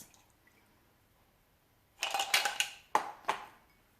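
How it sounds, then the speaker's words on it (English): A cocktail is poured through a strainer into a whiskey glass, with ice held back: a short burst of splashing liquid and clinking ice, followed by a couple of brief drips and clinks, close and fairly quiet. "I am going to pour it into this glass I have right here. I'm straining out the ice."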